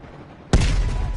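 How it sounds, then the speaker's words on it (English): A sudden loud burst of video game gunfire, including an M16, erupts after a quiet moment, followed by sustained rumbling shots and echoes close by. "you followed the road right toward the sound of gunfire"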